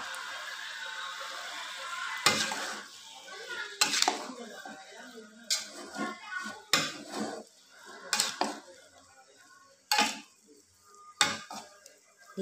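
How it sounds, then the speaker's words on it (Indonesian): Mushrooms being stirred in a pan with a little added water, irregular clinks and scrapes of a utensil against the pan in bursts, close, over a quiet background with faint murmuring voices. "Kita aduk, dicampur supaya merata."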